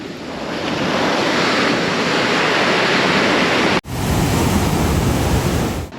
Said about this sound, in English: See the waves? It's kind of flat right now